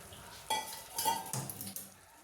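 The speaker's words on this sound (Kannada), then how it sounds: "ತುಪ್ಪದಲ್ಲಿ ಸ್ವಲ್ಪ ಫ್ರೈ ಮಾಡಿಕೊಂಡು ಮಿಕ್ಸ್ ಮಾಡ್ಕೊತಾ ಇದ್ದೀನಿ" Spoon clinks and scrapes against a pan while dry fruits are stirred in hot ghee for carrot halva, a few distinct metallic taps and scrapes over a faint background, no voices.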